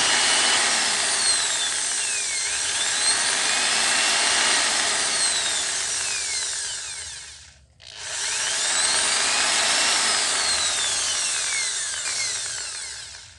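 A power drill run from a small homemade NE555 inverter with a small transformer runs loud and steady at high speed, briefly stops for a moment, then starts up again and keeps whirring.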